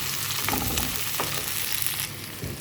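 Tomato hitting onion and garlic already frying in a pan: a dense, loud hiss of frying that eases slightly after a moment, with light stirring scrapes.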